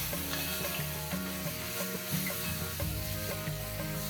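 Turmeric, chili and garam masala powders being stirred into a hot kadhai, soft sizzling under light, regular scraping of a spoon with faint background music.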